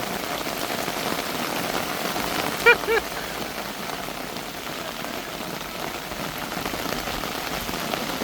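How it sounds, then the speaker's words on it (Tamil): Steady heavy rain pelts down outdoors near an Indian Army bridge under construction, a thick unbroken hiss of drops striking surfaces, interrupted briefly by a couple of small clinks. "இங்கே பாருங்கள் என்ன மழை அடிக்குதா."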